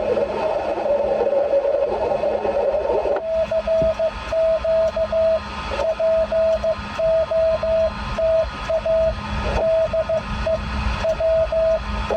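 A faint, wavering amateur radio signal sits buried in hiss and static during a Parks on the Air activation, with a repeating Morse code beeping tone pulsing through the noise at a steady rhythm.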